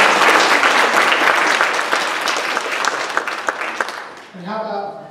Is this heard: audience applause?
yes